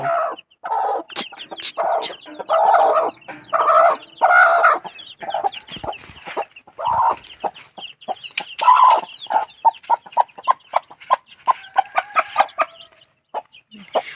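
A black hen and her chicks cluck close by in a rural yard. Bursts of throaty clucks alternate with sharper, rapid short calls.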